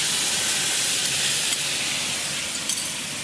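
Beef drops into hot groundnut oil in a wok and gives a dense, steady sizzling hiss, close and continuous throughout, with no voices.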